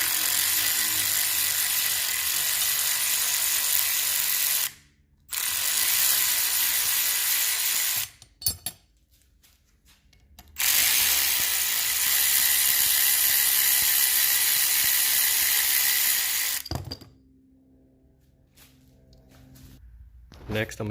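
Hand ratchet backing out 13mm bolts from small cylinder head brackets on a 2003-04 SVT Cobra 4.6 4-valve engine, long runs of fast, close clicking broken by brief pauses and clanks.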